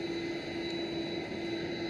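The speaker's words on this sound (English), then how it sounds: "we do also have a KLM A330 arriving." Steady, loud aircraft engine drone from a KLM Airbus A330 arriving at Amsterdam airport, a continuous roar with a strong hum running through the whole stretch and no talking.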